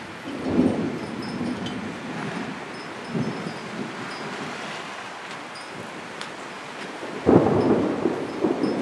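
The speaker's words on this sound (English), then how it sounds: "it's just a passing storm, it'll go away." Heavy rain hisses steadily while low rumbles of thunder roll in, with a loud crack of thunder near the end.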